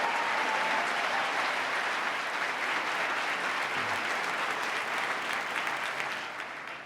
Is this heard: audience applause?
yes